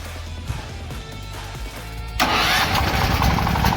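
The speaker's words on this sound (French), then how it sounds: "le démarrage donc s'effectue par exemple avec le démarreur à clé, donc on tourne sur on puis sur start." Kärcher PGG 6/1 single-phase generator started with its key starter: a short cranking stretch, then the engine catches and settles into a loud, steady running roar, close by with no talk.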